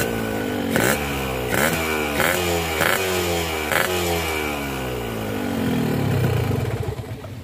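A small, hot two-stroke Pikoli 2TC1 motorcycle engine idles close by, blipped in a series of short, sharp revs before settling into a buzzing hum.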